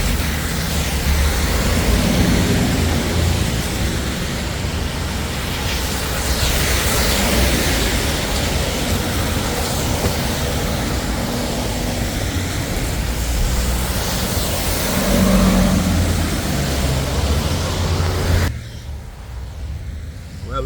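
City buses and traffic rolling past on a Detroit street, a steady loud broadband roar of engines and tires lasting throughout, swelling as vehicles pass close, then dropping abruptly near the end.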